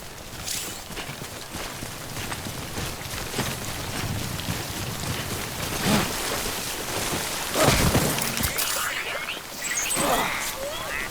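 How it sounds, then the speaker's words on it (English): Steady rain falling in the video game Death Stranding, a continuous hiss across the whole stretch with a few louder gusty surges, no talk over it. "Don't stay out in the rain any longer than you have to."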